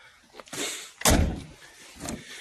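A VAZ car's door handle is pulled with a dull clunk, then a heavy thud as the faulty door jolts without opening, followed by a softer rattle nearby.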